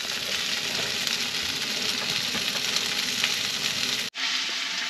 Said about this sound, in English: the ASMR of the spoon scraping on cast iron is not that great